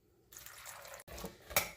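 A cup of water is poured into a pressure cooker holding white pumpkin (ash gourd) with turmeric for sambar. The pour is close and soft, a brief gush of splashing water with a louder splash near the end.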